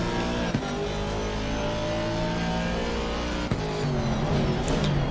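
Race car engine at Kyalami in a racing video game, a loud sustained whine with rising and falling pitch through gear shifts, brief dips at two upshifts, no voices.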